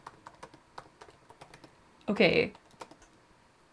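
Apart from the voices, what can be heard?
typing on a typewriter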